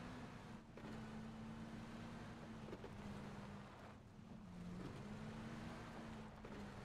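A vehicle engine in the video game PUBG drones at a steady low hum with a faint rising and falling whine, quiet and continuous beneath wind-like noise, with no talking.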